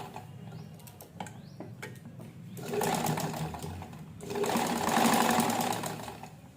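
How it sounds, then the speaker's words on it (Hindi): Sewing machine stitching a seam on fabric piping, running in two quick mechanical rattling bursts after some light ticks and handling, close and moderately quiet, without speech. "फिर एक सिलाई ऊपर की साइड में लगा देंगे।"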